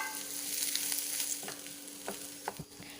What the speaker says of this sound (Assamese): এতিয়া আলুখিনি 5 মিনিটমান সময় ৰঙচুৱা হোৱাকৈ ফ্ৰাই কৰি ল'ব লাগিব